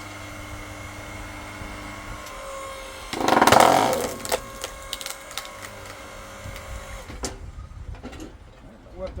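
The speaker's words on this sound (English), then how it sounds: "I'm going to split it from the bottom here, where I'm hoping there'll be no knots." Tough wood being split with a wood splitter: a loud burst of cracking and creaking fibres tears through mid-way, followed by scattered smaller snaps and knocks against a low steady background.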